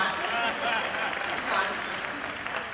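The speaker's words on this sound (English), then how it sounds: "Give Andrew a round of applause" Audience applause at a charity lobsterfest dinner and auction, a steady wash of clapping lasting the whole moment with voices faintly mixed in beneath it.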